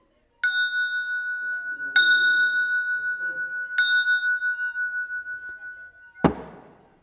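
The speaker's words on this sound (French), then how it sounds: "Voici cloche numéro 1 et cloche numéro 2, puisqu'avec un seul extincteur, on va pouvoir fabriquer deux cloches avec les deux extrémités." A bell cut from one end of an expired fire extinguisher is struck three times, each stroke giving a clear, sustained metallic ring that fades slowly. A final sharp clank cuts it off.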